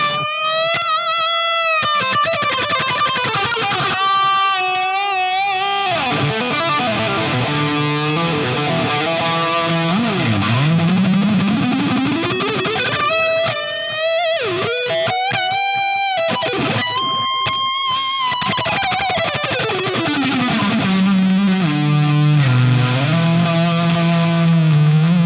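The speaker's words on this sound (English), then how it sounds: "here's just the lead guitar track with those changes that we made by itself" A distorted metal lead guitar track plays alone, with sustained, bending and sliding notes and fast runs, loud and continuous for about twenty-five seconds with no other instruments or voices.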